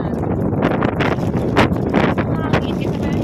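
Strong wind batters the microphone at a lake park in Germany on a spring day, a loud, constant rumbling buffet with gusty surges. A voice speaks over it.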